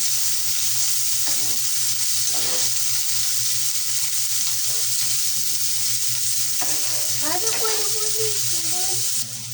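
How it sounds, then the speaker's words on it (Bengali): Chopped onion, garlic and chili frying in oil in a pan, a loud continuous close sizzle with occasional stirring scrapes, while a voice speaks briefly underneath. "খালি পেঁয়াজটা ভালোভাবে ভেজে নেব"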